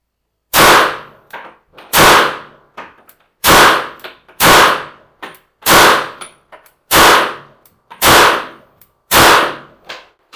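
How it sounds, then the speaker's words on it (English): Sphinx 3000 titanium pistol firing eight sharp, loud shots at a steady pace of roughly one per second, each crack followed by a brief decaying echo, with no talking. "and fire a few shots."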